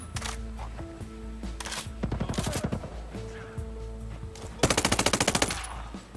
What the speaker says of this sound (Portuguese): tem o visual dos inimigos atirando ali